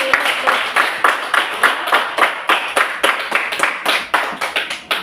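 Classroom students clap together for group presentations, a small group producing rhythmic, fairly close claps in uneven bursts that pulse steadily throughout.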